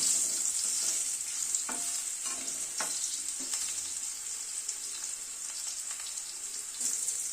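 Potatoes fry in a pan of oil for a fish curry with winter vegetables, giving a continuous bright sizzle broken by a few soft scrapes and clicks as they are stirred.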